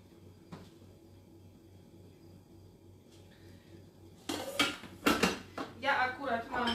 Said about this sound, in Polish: Do naczynia miksującego włożyć ser żółty.